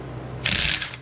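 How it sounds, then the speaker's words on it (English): A small impact wrench hammers loose a 1-inch nut on a Jaguar MKII steering column during a tear-down, giving one close, rattling mechanical burst of under half a second over a quiet workshop background. "I've got my little impactor here"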